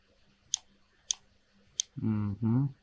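Three sharp, isolated computer mouse clicks spaced roughly half a second apart, close and crisp in a quiet room, followed by a person beginning to speak.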